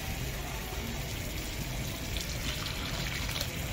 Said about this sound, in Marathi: थोडं थोडं पाणी टाकूया आपण।